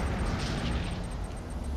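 A rocket strike explosion in Command & Conquer: Tiberium Wars, a sustained, roaring blast with heavy low rumble that holds loud throughout.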